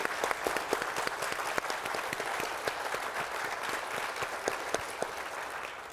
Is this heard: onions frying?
no